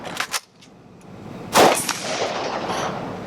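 Shots from an IWI X95 Micro rifle during a reload drill at 100 yards on an outdoor range: a couple of sharp cracks early, then a louder report around the middle followed by lingering echo and ambient noise.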